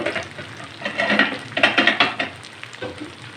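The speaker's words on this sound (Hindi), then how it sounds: "इसमें अब इस स्टेज पर हम डालेंगे जो आलू हमने" Fried potatoes are stirred into capsicum cooking in a pan, giving close sizzling and a run of scraping, stirring strokes that rise and fall in quick bursts.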